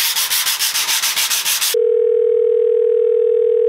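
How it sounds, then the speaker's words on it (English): Wooden windowsill being sanded by hand with sandpaper wrapped around a wood block, a quick rhythmic back-and-forth rasp lasting under two seconds, close and loud, then cut off by a steady electronic tone. "I've been sanding the windowsill"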